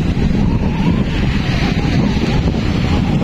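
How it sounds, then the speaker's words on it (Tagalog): Strong wind roars steadily across the microphone at a beach in Boracay, a constant loud rush with surf-like noise and no speech. "Medyo malakas yung hangin ngayon."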